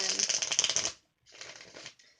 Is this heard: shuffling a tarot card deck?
yes